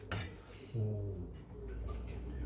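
Fresh homemade pasta stirred in a small pot for a salmon pasta dish, giving soft clinks and scrapes of utensil against the pot, with a low hum underneath throughout.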